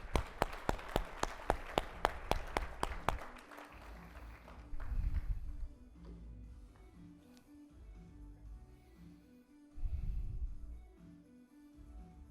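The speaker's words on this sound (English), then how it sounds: "Give her another round of applause." A few seconds of brisk, evenly paced clapping for an award recipient at an engineering awards brunch, fairly faint, fading into low room murmur.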